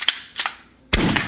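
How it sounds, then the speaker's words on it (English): A brick-built toy pistol fires spring-loaded bullets: a couple of sharp, close snaps in quick succession, then one louder pop followed by a brief rattling tail. "you can even transform it into a pistol. And it shoots bullets."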